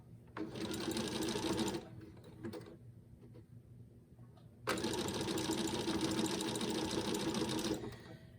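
A sewing machine stitches fabric scraps into trim. It runs in two loud, steady whirring bursts with a quieter pause between them, where a voice and faint handling can be heard.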